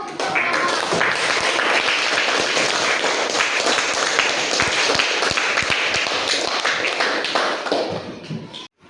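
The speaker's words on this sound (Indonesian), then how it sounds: "Ya, tepuk tangan dulu." Students in a classroom clap for a presenter at the end of a lesson, a steady, busy patter of many hands held at an even level for several seconds before breaking off abruptly.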